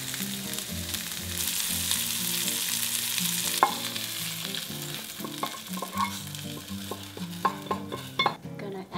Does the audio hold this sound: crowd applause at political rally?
no